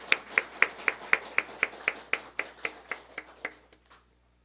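Church congregation clapping in unison, about fifteen evenly spaced sharp claps in a steady rhythm that gradually softens and fades out at the end, close and clear with no talk.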